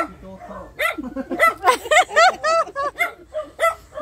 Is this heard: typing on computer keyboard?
no